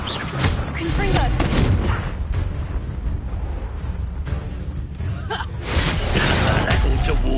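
Confringo fire spells burst in a Hogwarts Legacy duel, loud booming blasts layered over game music and character voices.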